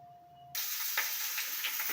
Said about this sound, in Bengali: তেল দেওয়ার পরে ক্যাপসিকাম পেঁয়াজ কুলি আর পেঁয়াজের টুকরোগুলো কড়াইতে ছেড়ে দিয়েছি। এগুলো ফ্রাই হবে।